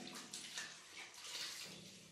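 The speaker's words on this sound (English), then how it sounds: "Rinse hands with water." Water runs steadily from a tap while hands are rinsed under it, a soft continuous splashing hiss, quiet and close with no talk.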